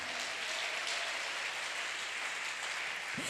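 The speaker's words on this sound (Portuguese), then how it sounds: "Você pode aplaudir o Senhor por essa palavra?" Sustained applause from a crowd at a women's church conference, a dense steady wash of clapping filling the whole stretch at even loudness.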